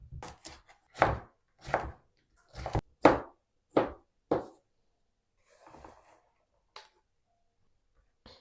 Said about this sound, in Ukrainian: Один свіжий огірок нарізаю кубиком.